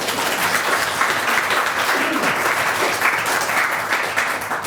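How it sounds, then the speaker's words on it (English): A roomful of chamber of commerce lunch guests gives new members a round of applause: dense, steady clapping that holds at an even level throughout, close and full, with no voices standing out. "Please give our new members a round of applause"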